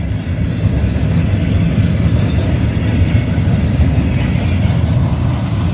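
Norfolk Southern train rolling past a grade crossing in Sharonville, a steady, loud low-frequency rumble that holds even throughout without clear wheel clicks or horn.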